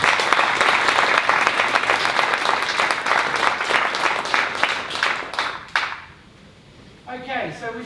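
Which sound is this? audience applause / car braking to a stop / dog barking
audience applause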